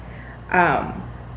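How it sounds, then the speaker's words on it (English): A single short cat meow, fairly close, rising then falling in pitch, over a quiet background hum. "excuse my cat Lucky,"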